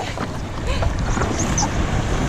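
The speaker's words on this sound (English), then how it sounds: "Kind of windy." Gusty wind buffets the microphone in a constant rough roar at a beach on Marco Island, Florida, with faint splashing water beneath.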